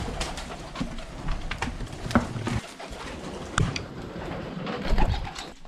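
Soft cooing of young racing pigeons against a busy background of rustling, fluttering and scattered clicks, with no voices.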